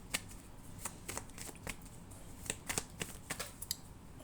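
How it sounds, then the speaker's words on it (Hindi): Tarot cards shuffled and cut by hand, giving a run of crisp riffling flicks and soft slaps at an uneven rhythm, close up and fairly quiet, with no speech. "चलो पैसे के लिए कार्ड्स निकालती हूँ। फाइनेंशियल पोजीशन के लिए कार्ड्स दीजिए"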